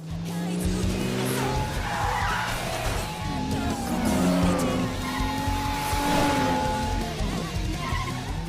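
A stolen car races and skids in an action film scene, tires squealing in long sustained screeches over a roaring engine, loud and continuous throughout.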